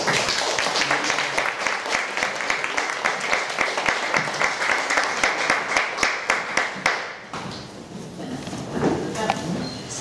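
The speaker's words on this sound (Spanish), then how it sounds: "demos un aplauso de bienvenida a nuestros dos invitados" An audience at a literary talk claps steadily for several seconds, a dense crackle of hands that tapers off before quieter room sounds and faint voices.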